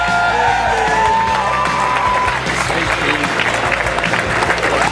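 Sustained crowd applause with whoops and shouted cheers for Michael after his speech, loud and continuous, with children's voices and bellows mixed into the clapping.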